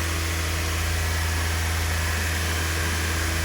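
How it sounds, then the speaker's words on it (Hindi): A car engine held at about 2500 rpm during a load test for an ECM fault gives a steady, even hum that stays level and close throughout, with no break or change in pitch. "हमने इंजन का आरपीएम बढ़ाया"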